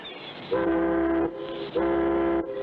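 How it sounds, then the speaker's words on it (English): Two long, deep boat whistle blasts, each lasting under a second, sounding close and loud over a low background rumble. "That's the first boat whistle that's sounded in 3 weeks."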